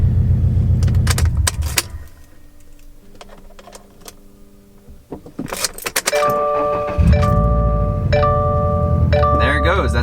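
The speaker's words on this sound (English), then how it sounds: "when we restart the car, it should be gone." Keys jingle up close, then after a quiet stretch a 2017 Subaru WRX STI engine cranks and starts, settling into a steady idle with chiming dashboard tones over it.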